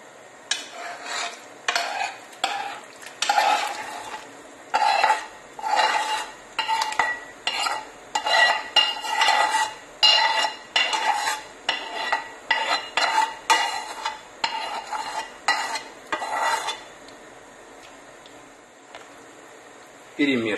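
A spoon stirs cabbage and fried vegetables into a pot of Ukrainian borscht, giving loud, rhythmic scraping strokes roughly once a second that stop briefly toward the end.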